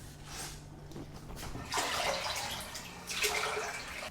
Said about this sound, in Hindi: AC वाला पानी फेंकता हूँ पहले तो बाथरूम में